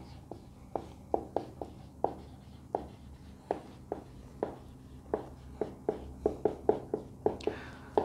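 Pen or marker writing on a board during a maths lecture on lowest common multiples: a steady series of short, crisp scratchy strokes, some in quick bursts, fairly close with no talk.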